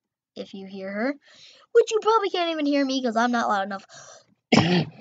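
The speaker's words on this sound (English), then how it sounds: "Sorry, coughing again." Someone playing slither.io talks and then lets out a single short, sharp cough near the end.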